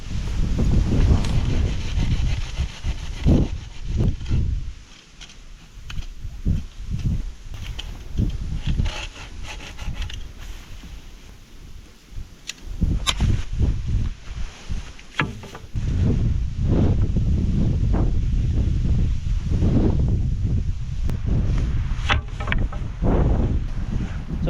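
Strong wind buffets the microphone on an open mountain hilltop campsite in Mt. Province, a loud, continuous roaring rumble that surges and eases in gusts for the whole stretch, with no voices.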